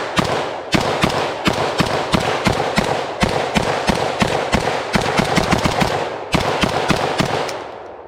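Rapid, close, loud gunfire from a Galil ACE Generation 1 carbine rifle, sharp shots fired in fast strings and bursts with short pauses between, continuing steadily throughout.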